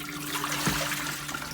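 Dirty water from a humidifier dumped into a sink, a brief steady splashing and trickling pour heard close up.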